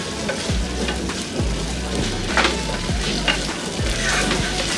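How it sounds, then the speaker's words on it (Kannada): Butter, garlic and eggs frying in a creamy sauce over a medium flame, with a steady crackling sizzle broken by repeated low thuds and scrapes of stirring. "ಈ ರೀತಿ ಇದನ್ನ ಚೆನ್ನಾಗಿ ಮಿಕ್ಸ್ ಮಾಡಿಕೊಂಡು ಒಂದು ಮೀಡಿಯಮ್ ಫ್ಲೇಮಲ್ಲಿ ಒಂದು 30 ಸೆಕೆಂಡ್ಸಷ್ಟು ಇದನ್ನು ಫ್ರೈ ಮಾಡಿಕೊಂಡ್ರೆ ಸಾಕು"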